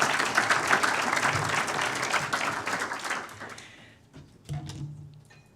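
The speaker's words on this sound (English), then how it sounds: "I think we should start by giving Craig a big round of applause" An audience at a boardroom dynamics talk breaks into warm applause, dense clapping that fills the room and then thins out into scattered claps.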